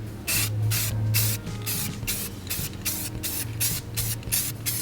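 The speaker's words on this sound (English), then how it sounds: "now we're going to go ahead and give it a quick spray paint" Short bursts of spray hiss from a spray paint can onto a metal vase, about a dozen quick pulses in an uneven rhythm, close and fairly loud.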